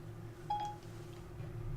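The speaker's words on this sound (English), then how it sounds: "Siri actually just activated on my phone." A single short electronic beep from Siri activating on a phone, faint and brief, over a low steady hum with no talk.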